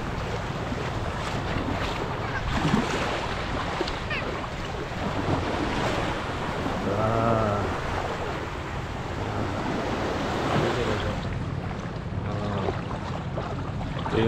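Sea waves wash continuously at a sandbar beach in Cawayan, Masbate, Philippines, a broad steady surf roar mixed with wind buffeting the microphone, with faint distant voices now and then.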